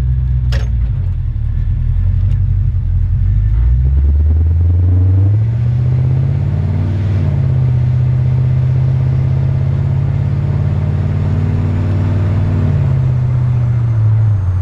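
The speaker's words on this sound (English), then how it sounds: "This truck's got a recently rebuilt 350 V8 with a 700 R4 transmission." A 1956 Ford F-100 pickup with a rebuilt 350 V8 idles with a deep, steady rumble, then revs up and settles into a throaty, loping idle, close and loud.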